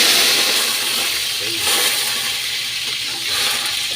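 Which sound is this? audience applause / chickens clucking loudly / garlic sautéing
garlic sautéing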